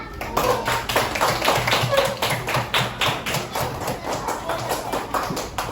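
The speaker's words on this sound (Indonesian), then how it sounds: "Tepuk tangan dulu." A group of schoolchildren in a classroom claps hands in a fast, steady rhythm, the sharp repeated claps continuing for several seconds with voices mixed in.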